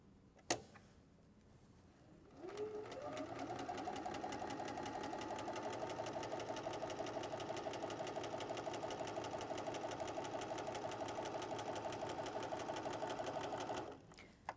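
A sewing machine runs a steady, continuous stitching seam along quilt squares of fabric, loud and close, starting after a brief pause and stopping cleanly near the end with no talk.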